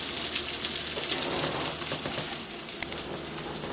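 Chicken pieces cooking undisturbed in a hot pan, for an Italian chicken and zucchini dish, giving a steady, dense sizzle that hisses continuously and close up with no talking.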